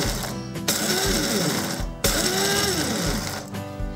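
An electric grinder is pulsed in short bursts, roaring loud and harsh as it crushes glass into powder, with brief stops between the two whirring runs.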